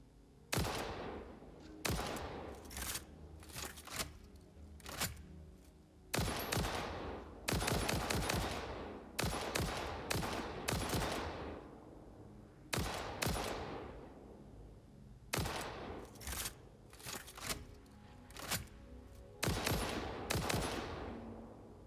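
Player's gun firing in the factory-building game Satisfactory, loud repeated bursts of rapid automatic gunfire separated by short pauses, no talk.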